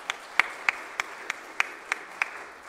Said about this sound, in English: So if we could give a round of applause for our choir.